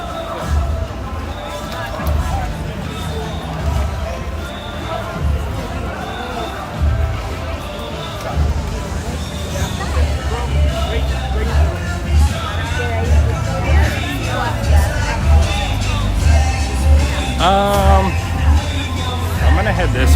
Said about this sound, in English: All right, so the crowds are picking up